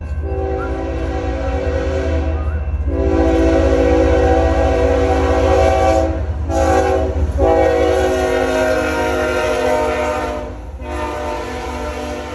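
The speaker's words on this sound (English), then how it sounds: "the trains just whip by on full speed every 30 minutes" A loud, continuous train horn blares over the low rumble of a train passing at full speed, breaking off briefly a few times before fading slightly.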